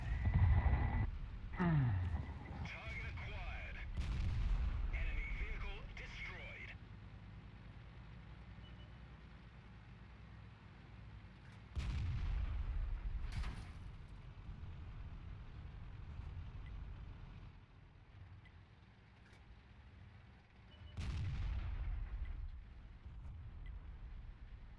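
Tank cannon fire in a tank video game: several heavy, booming shots come at irregular intervals, each followed by a fading low rumble, with quieter engine-like drone between them and no talking.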